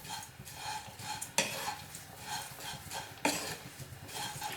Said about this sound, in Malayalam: ഇളക്കി കൊടുത്തുകൊണ്ടിരിക്കാം.